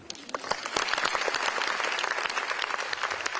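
An audience at a fashion Q&A claps steadily for a few seconds, a dense, sustained patter of many hands filling the room without a break.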